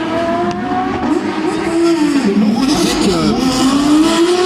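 Porsche rally car setting off at the 2018 Rallye de Wallonie, its engine revving up and down in a strong, continuous drone that rises and falls in pitch across the stretch, with faint crowd noise beneath.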